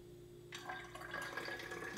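Iron water solution poured into a natural black walnut dye bath: after a half-second of quiet, a close, soft splashing pour of liquid runs continuously for about a second and a half.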